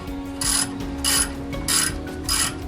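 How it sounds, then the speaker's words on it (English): Bolts being snugged on a 1985 C4 Corvette engine during reassembly, heard as four evenly spaced bursts of metallic ratcheting, close and moderately loud over a faint background hum. "now I'm just going to snug them up and get ready to torque them down"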